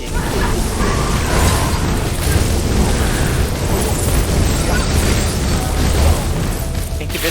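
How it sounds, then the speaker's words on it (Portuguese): Explosion in the video game Chronicon, a loud, sustained wash of booms and crackling bursts with mechanical clatter, steady and dense for several seconds. "Última explosão legal aqui."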